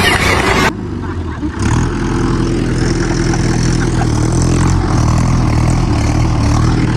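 A heavy engine rumbles steadily nearby at idle, low and continuous, with a brief dip and then a slight rise in revs.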